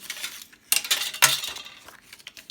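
Paper is snipped for a handmade junk journal, giving a few sharp, crisp cuts and rustles at close range, with short quiet gaps between them and no talking.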